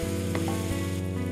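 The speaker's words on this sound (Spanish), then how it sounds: "pues añadimos el tomate" Chopped peeled tomatoes sizzle steadily in a pan for a vegetable lasagna filling, a continuous close frying hiss with a low hum and a couple of brief stirring clinks, no talk.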